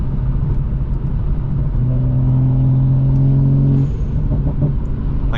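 A Toyota Supra's turbo spools while cruising at night, windows up, a steady loud engine drone and road rumble with a rising whine building, then easing off near the end.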